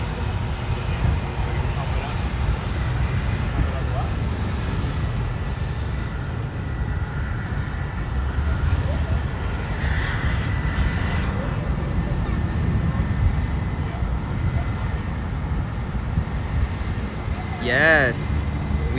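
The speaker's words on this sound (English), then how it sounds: "In the background taken off there, you see a JetBlue A321." A JetBlue Airbus A321 airliner takes off at Los Angeles International Airport, its engine roar a steady, distant broadband rumble lasting throughout, with a person talking over it.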